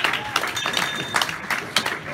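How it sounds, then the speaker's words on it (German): Audience applause in a German science lecture hall after a crowd wave, dense clapping with a few louder swells, moderately close and continuous. "Ein Applaus für das Publikum!"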